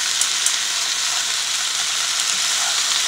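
Onion and red bell pepper fry with sausage in a pan, giving a dense, steady sizzle with small pops and crackles, close and continuous with no talking.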